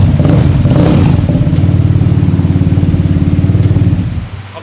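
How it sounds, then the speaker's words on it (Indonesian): Bored-up Vespa scooter fitted with an Akrapovic exhaust revs hard and close, a loud throbbing engine note held steady for several seconds before easing off at the end. "Ini Vespa pakai Akrapovic."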